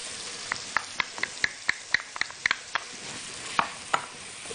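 Onion and garlic fry in a pan with meat juices, a soft sizzle broken by a dozen or so sharp clicks of a spoon stirring against the pan, fairly quiet and close, no voices.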